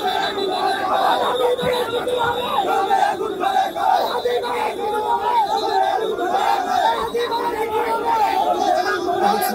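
A large crowd outside Dhaka Medical hospital chanting the slogan "bhuya bhuya", a dense, continuous roar of voices with rhythmic shouting, loud and close.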